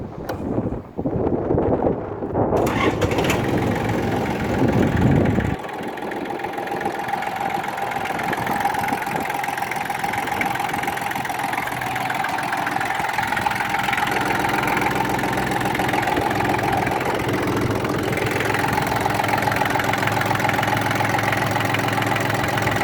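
A Yanmar F18D diesel tractor engine with 792 hours starts with a few rough turns, then settles into a steady low idle, close by and running smoothly.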